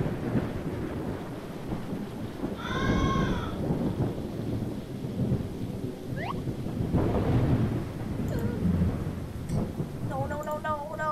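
Thunderstorm ambience in the video game Max: An Autistic Journey, a steady wash of rain and low rumbling thunder throughout, with brief tonal game sounds and a short voice breaking in over the storm.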